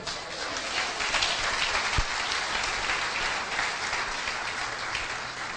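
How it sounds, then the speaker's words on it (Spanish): Congregation at a Christian preaching conference breaks into strong, continuous applause, a broad even wash of many hands clapping, fairly loud and sustained throughout. "Denle un aplauso fuerte al Señor"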